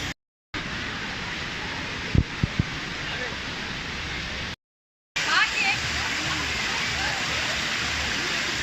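Steady, dense rushing of Saitabat Waterfall near Bursa fills the crowded scene, a constant broadband roar with brief cutouts and faint voices underneath.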